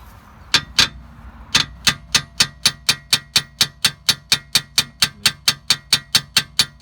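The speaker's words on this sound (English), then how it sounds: "so now hammering this" Hammer blows striking a Land Rover Freelander 2 rear shock absorber strut during a suspension job: two sharp metallic hits, a short pause, then a long, even run of about twenty loud, close strikes.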